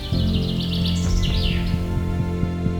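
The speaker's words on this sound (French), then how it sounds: "dans leurs manifs, on s'arrête pour écouter les oiseaux" Birds sing and chirp outdoors during a protest march, quick bright trills and tweets repeating over a steady low hum of background noise.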